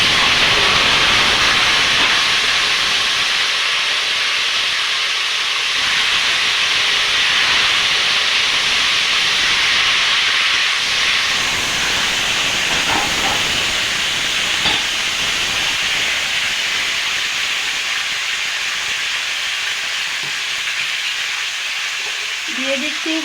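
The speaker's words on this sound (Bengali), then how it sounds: "তেলে একটু নাড়াচাড়া করেই এখন দিয়ে দিব আমটা" Salt-cured mango pieces hitting hot oil in a pan, a loud, dense hiss that stays steady and close for the whole stretch, with faint stirring noises and no talking.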